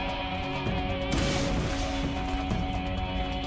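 A heavy blast from a weapon or thrown grenade in the Borderlands shooter booms out loudly, a sudden crashing burst over a dense, continuous wash of gunfire and game noise.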